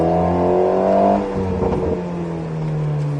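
An Alpine A110S race car accelerates on the Nogaro circuit, its engine droning loud and close in a steady rising tone, then easing off briefly before pulling again.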